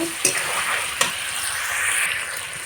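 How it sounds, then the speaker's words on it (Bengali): Ground cumin, ginger and garlic paste stir-fried in a pan for chicken biryani, a steady close sizzle with a couple of sharp scraping clicks from the stirring, no voices. "কাঁচা জিরে বাটা আদা বাটা রসুন বাটা এবার ভালো করে নেড়ে চেড়ে কষিয়ে নেব"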